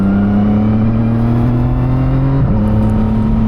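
A CFMOTO 675SS sport motorcycle accelerates under load, its engine note climbing steadily, then dipping sharply around a quick upshift before it pulls again. The engine is loud and close with steady wind rush and no voices.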